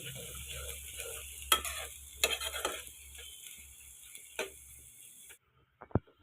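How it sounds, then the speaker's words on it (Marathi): Finely chopped onions sauté in hot oil, a steady sizzle broken by a few sharp spatula scrapes and knocks against the pan, then a sudden fall to near silence with one last faint clatter. "कांदा चांगला आपण लालसर होईपर्यंत परतून घेऊया"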